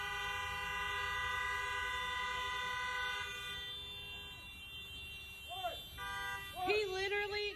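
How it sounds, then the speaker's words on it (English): Car horns honk repeatedly in a drive-through line, a sustained blare followed by several shorter toots and overlapping honks near the end, fairly close and loud. "I told the cars to honk when he ordered"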